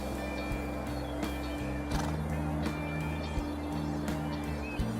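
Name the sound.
horses in a field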